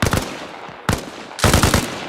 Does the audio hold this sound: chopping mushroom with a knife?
no